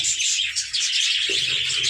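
Constant high, rapid chirping from a budgerigar chick goes on without a break, close and fairly loud.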